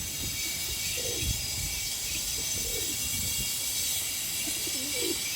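Pigeons coo softly at their loft in several low, rolling calls, set against a steady background hiss.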